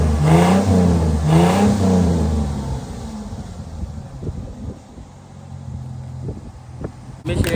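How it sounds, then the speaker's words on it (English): A Ford Mustang engine revs loudly in a shop, with rising and falling pitch sweeps early on, then settles into a rumbling idle with small blips. A brief burst returns at the end. "let's hear the Mustang"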